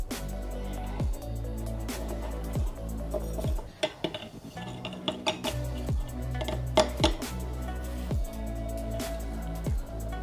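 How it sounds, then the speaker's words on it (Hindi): Scraped matchstick heads are tipped and tapped into a bowl. A steady clatter of dishware clinks and knocks repeats at a regular rhythm over a constant low hum, with no voices. "तो हम क्या करते हैं, इसे इस बाउल में ट्रांसफ़र कर लेते हैं।"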